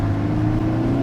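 A car engine pulls hard in first gear, a loud, steady low-pitched drone with rising harmonics heard up close, with no talk over it.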